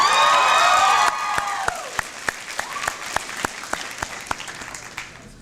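Loud burst of crowd applause at a high school graduation ceremony that thins into scattered, individual claps, tapering off over several seconds.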